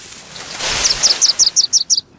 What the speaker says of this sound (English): bird in the tree there